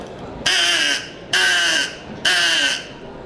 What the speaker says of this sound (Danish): det her, det hedder et kragekald. Og hvis jeg pakker den her ud af plastikken og puster i den, så får jeg den her lyd ud af det.